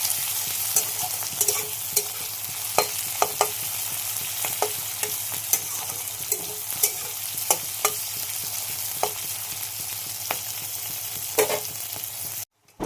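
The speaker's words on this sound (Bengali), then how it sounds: "এখন মাংসটা কষাচ্ছে মশলার সাথে ভালো মতন" Chicken fries in a pan with tomato, capsicum and whole garam masala, giving a steady close sizzle broken by repeated scraping stirs before cutting off abruptly at the end.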